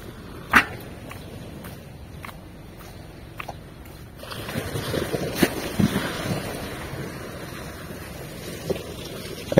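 Sea at Zambales washes in the background under heavy wind buffeting the microphone, with a few sharp knocks early on, then a rougher, louder surge of wind and surf in the second half.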